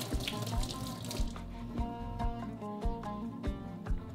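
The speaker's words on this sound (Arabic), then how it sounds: "كتخوي عليها شويه ديال الماء" Water splashes and drips onto an onion from a running kitchen tap, a bright steady pour with rhythmic sink splatter, close and without talk.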